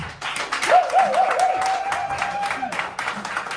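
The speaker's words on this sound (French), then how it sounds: "on va acclamer pour lui" Audience applause for General Ebenezer, a praise leader from Côte d'Ivoire, at a conference gathering; steady broadband clapping fills the clip, with a sustained whistle-like tone riding over it in the middle.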